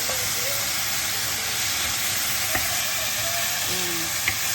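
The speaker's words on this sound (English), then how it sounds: "Now we're just going to stir it." Cubes of beef searing in a hot pan with shallots, garlic, oyster sauce and soy sauce, a loud steady sizzle and hiss running throughout, broken by a couple of brief clicks of the stirring utensil.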